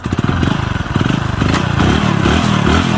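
A motorcycle engine running on calcium carbide and water chugs with a loud, uneven rhythmic putter, close by and alone, its pulses steadying into a continuous rough idle.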